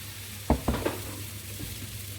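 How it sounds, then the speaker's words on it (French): Crêpe batter hits a hot pan with a few sharp bursts of sizzle, then settles into a faint, steady frying hiss; the sound is close and quiet, with no one speaking. "ma poêle est à présent chaude, on envoie notre première crêpe"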